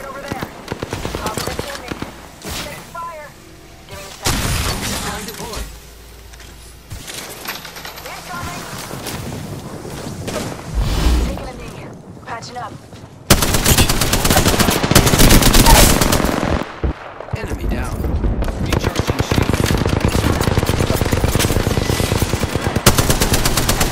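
Dense video game gunfire crackles in rapid automatic bursts and volleys, close and loud, growing more intense in the second half, with players talking over it.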